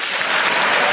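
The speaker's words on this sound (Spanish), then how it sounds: "una votación histórica que fue recibida, fíjense, con esta gran ovación en el hemiciclo francés" A large ovation fills the French National Assembly chamber after a historic constitutional vote, dense steady applause from many hands, loud and continuous throughout.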